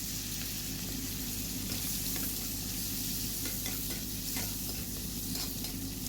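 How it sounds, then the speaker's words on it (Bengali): Capsicum sautéing in a pan over cumin seeds for niramish paneer, a steady close sizzle with scraping stirs running throughout and no talking. "এবার ক্যাপসিকামগুলোকে দিয়ে ভালো করে ভেজে নিতে হবে"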